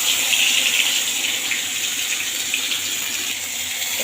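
Water is poured steadily into a pan of spices frying in oil left from cooking fish, with bay leaves and whole cumin, giving a continuous close hiss and rush with no voices.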